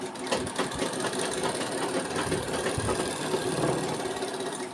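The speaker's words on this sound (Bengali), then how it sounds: "এক চাপে সেলাই দিলাম" A sewing machine stitches hook-pocket fabric in one continuous run, a close, rapid mechanical whirr with rhythmic needle knocking throughout.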